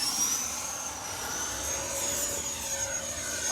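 An H-King Flycat 70mm 6S electric ducted-fan model jet flies overhead after takeoff. A steady, high-pitched turbine-like whine holds at a moderate distance throughout, with no talk.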